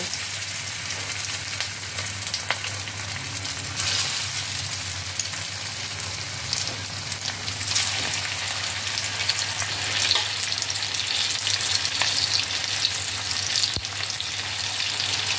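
Chicken chapli kababs fry in hot refined oil in a frying pan, a dense, continuous sizzle with scattered pops and crackles and a low steady hum, without any talking.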